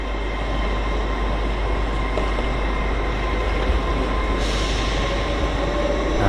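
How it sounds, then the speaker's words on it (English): Class 800 unit 800 110 pulls out of the station on a Leeds to London King's Cross service. It makes a steady, loud rumble of traction and rolling wheels with a faint high squeal. "So 800 110 is departing now for London King's Cross."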